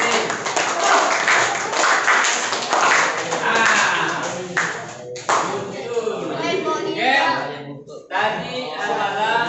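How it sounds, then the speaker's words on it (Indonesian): Classroom applause for a student, a crowd of children clapping in a steady patter mixed with voices talking over it. "beri aplaus pada"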